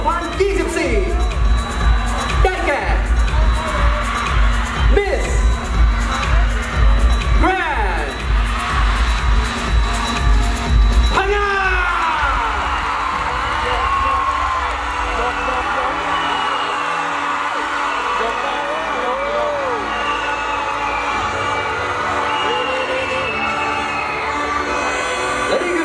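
A large crowd at the Miss Grand Thailand 2024 beauty pageant final cheers, whoops and applauds continuously, loud and close, with amplified voices and music layered throughout.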